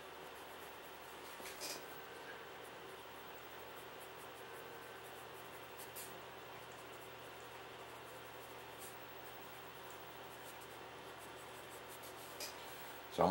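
Pencil strokes scratch across paper while drawing eyelashes, a soft, faint, continuous scratching with small irregular bursts against quiet background hiss.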